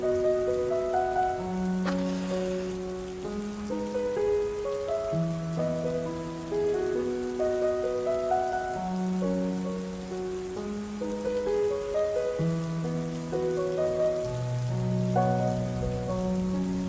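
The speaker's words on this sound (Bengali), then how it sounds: "এখন বাইরে বৃষ্টি হচ্ছে" Steady rain patters in the background while a gentle melodic tune plays on top, continuous and even throughout.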